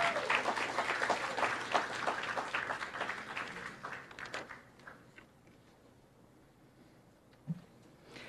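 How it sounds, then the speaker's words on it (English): An audience at a live-streamed official proceeding breaks into loud applause that swells, then tapers off over several seconds into scattered claps and room quiet. "Give them a round of applause."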